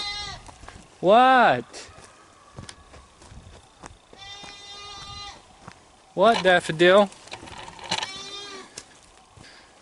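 Goats bleating during morning farm chores, loud close calls in two bursts with fainter bleats between, while a person talks to them.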